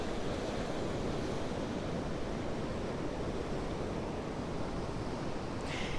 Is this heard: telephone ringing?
no